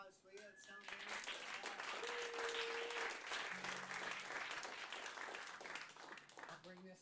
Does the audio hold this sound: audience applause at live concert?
yes